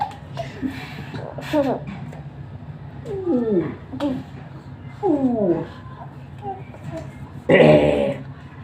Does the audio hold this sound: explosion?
no